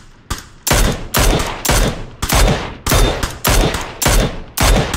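Gunfire in PUBG arrives as a steady series of about nine loud, sharp shots spaced roughly half a second apart, each ringing out briefly before the next. No voices are heard over the shooting.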